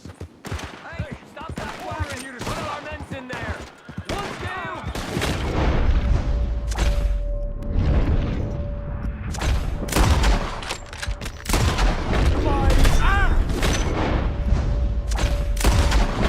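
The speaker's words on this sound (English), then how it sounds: "That was a lot of shots I just heard." A flurry of distant then nearer gunshots in Red Dead Redemption 2, scattered cracks building into a loud, dense volley with booming impacts, with voices talking over parts of it.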